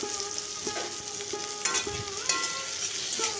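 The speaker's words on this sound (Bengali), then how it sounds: "চিংড়ি মাছগুলো হালকা ভেজে নেব" Prawns fry lightly in oil in a pan while being stirred, with a steady close sizzle throughout and occasional soft scrapes and clinks of the spatula against the pan.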